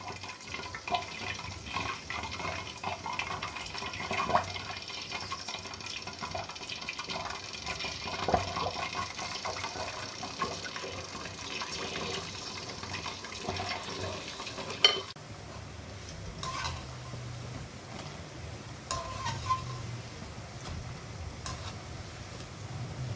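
Pakoras frying in oil as spoonfuls of batter are added, a soft continuous sizzle with occasional faint ticks and clinks of the spoon, fairly quiet.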